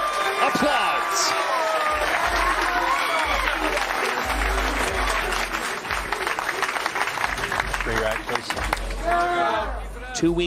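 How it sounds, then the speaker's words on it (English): Applause from the crowd at a PBA bowling tournament after a strike, steady clapping over arena noise with commentators talking throughout and some scattered thumps and rumbles below. "Applause."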